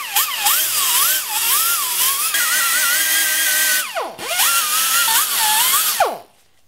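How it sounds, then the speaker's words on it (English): A small die grinder fitted with an abrasive pad cleans a differential cover, giving a steady high-pitched whine that wavers in pitch as the pad bites. It runs continuously, dips briefly twice, then cuts off near the end. "if you have a little die grinder or an air grinder with a little abrasive pad on the end, it'll make a lot faster job of it"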